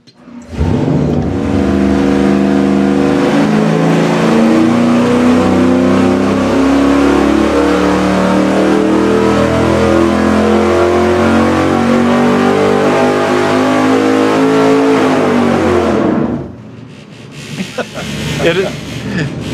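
Engine revving on a dyno run, a loud sustained roar climbing steadily in pitch for about fifteen seconds before cutting off abruptly, followed by quieter shop noise.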